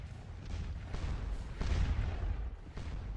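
Cannon fire on a Napoleonic battlefield in the Scourge of War Waterloo game: rolling booms from several guns in quick succession, heavy and somewhat distant, with no talk.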